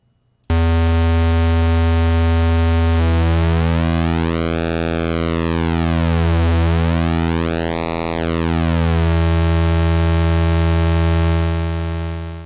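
A synthesizer in VCV Rack sounding a loud, steady, buzzy 10% pulse wave, its harmonics sweeping in a swooping filter-like motion before settling back to a constant drone, with no voices.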